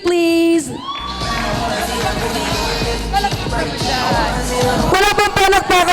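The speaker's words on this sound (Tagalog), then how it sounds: "let's give it applause for our little bride" Wedding guests cheer and applaud for a little bride, a loud crowd of whoops and yells with clapping over music, after a brief sustained tone at the start and a sharper burst near the end.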